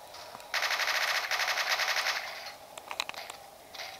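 Sustained automatic gunfire from a match of Call of Duty: Modern Warfare 3, a steady rapid burst lasting about two seconds followed by a few scattered shots and a short final burst, loud with no talking.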